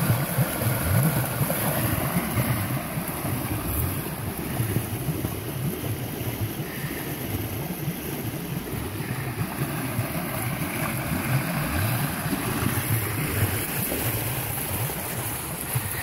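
Water from a pond pours steadily through an overflow pipe, a continuous loud rushing and gurgling wash that holds the same level throughout with no voices.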